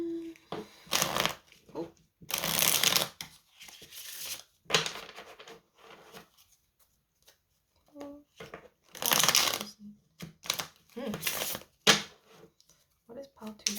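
Tarot cards are shuffled in several short, brisk bursts of riffling and flicking at close range, separated by quiet gaps, with a brief spoken exclamation.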